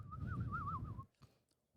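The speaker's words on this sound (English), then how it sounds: "Wonder if you could hear those birds because they sound so cute." A single bird gives a clear, wavering whistled call for about a second, close and alone, followed by a few faint clicks and quiet background.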